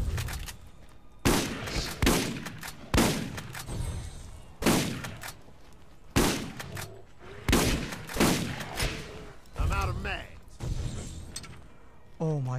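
Repeated bursts of gunfire in the Borderlands video game, loud sharp volleys fired roughly every second with short gaps, ringing tails after each shot.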